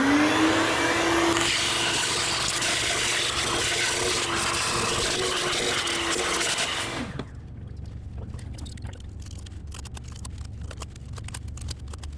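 A shop vacuum sucks crud out of the engine intake area of a 5th-generation Dodge Grand Caravan, a loud steady roar for about seven seconds that then drops to quieter scraping and clicking handling noises.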